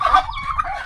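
Turkeys in pens give a short burst of gobbling and clucking calls, fairly close and clear over a low background rumble.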